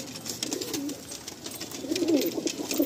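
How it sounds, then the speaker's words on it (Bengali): Pigeons at a sale cooing softly and repeatedly, their low rolling calls overlapping at moderate distance against quiet background noise. "প্রতিটা পায়রা দেখুন খুবই অ্যাক্টিভ"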